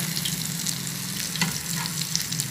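Besan-coated roti pakoras fry in hot oil with a steady, dense sizzle and crackle, close and loud throughout with no talking.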